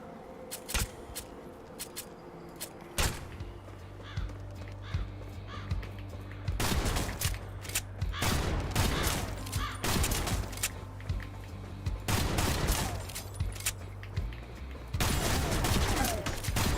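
Rifle gunfire in Kill the Crows rings out in bursts of rapid, sharp shots between short pauses, loud and close over a low steady hum, with a few single cracks early on.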